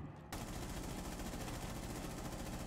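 Gunfire in Rainbow Six Siege starts abruptly after a brief quiet moment and becomes a dense, continuous rattle of rapid shots that stays loud and steady to the end.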